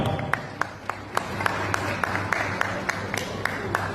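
Audience at an award ceremony applauds, a steady patter of many hands with sharper individual claps standing out, moderately distant and filling the room.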